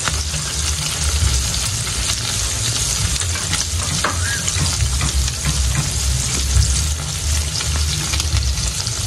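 Eggs fry in a hot pan with a loud, continuous close sizzle and occasional stirring or scraping. No one speaks.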